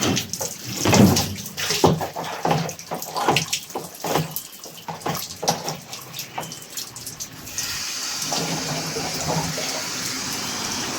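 Water runs from a tap in irregular splashing bursts at first, then settles into a steady, close gushing stream for the last few seconds, with no talking.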